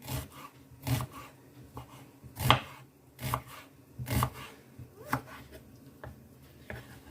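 A kitchen knife slices an onion into half rings on a board, giving a series of crisp, evenly spaced cutting strokes, close and fairly quiet.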